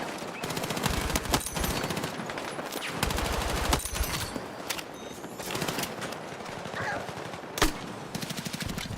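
Dense bursts of automatic rifle fire and single shots crackle almost nonstop in a Battlefield 6 video game battle, some close and sharp, others overlapping into a rolling barrage.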